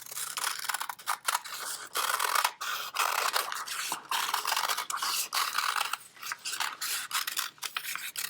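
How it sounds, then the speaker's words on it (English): Paper scissors snip through sheets while cutting out paper elephant ears, a close series of crisp, uneven cutting strokes with brief pauses between them. "So I'm going to go ahead and cut those out."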